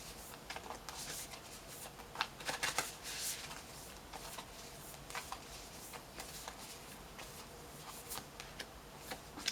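Tarot cards shuffled and pulled during a winter solstice reading, giving soft papery riffles and light ticking flicks scattered across the stretch, close and fairly quiet with no talk.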